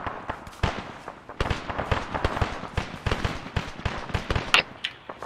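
Distant gunfire in ArmA 3, a rapid, uneven stream of sharp cracking shots, some in quick bursts, others scattered, all fairly faint and far away, with no talking over it.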